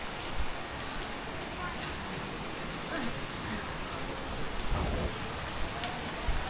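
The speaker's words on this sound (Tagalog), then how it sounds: "Yay, may ulan dito" Steady rain falling outdoors in the Philippines, a dense even hiss with a few louder drops and patters, heard alone at moderate distance.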